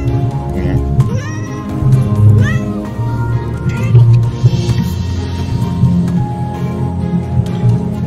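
A cat meows repeatedly and loudly close by, drawn-out rising and falling cries spaced through the stretch, heard over a low background hum without talking.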